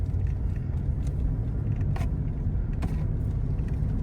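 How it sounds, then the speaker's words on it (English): A 10-tonne feeder truck rumbles steadily at a cattle silage yard, its low engine drone continuous with a few faint mechanical creaks and knocks over the top. "10-tonne feeder truck"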